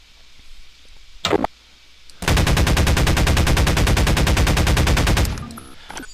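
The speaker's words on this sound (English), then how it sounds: "With the AR2 you can get off about one clip and a couple extra shots" AR2 rifle firing in the Combine Insurrection video game: a loud, rapid automatic burst of evenly spaced shots lasting about three seconds, preceded by a brief short noise, with no voices.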